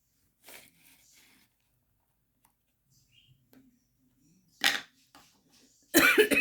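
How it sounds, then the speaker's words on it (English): A woman coughs a few times indoors, short scattered bursts with quiet gaps between, the last ones louder and closer, with faint small rustles in the pauses. "Excuse me for coughing."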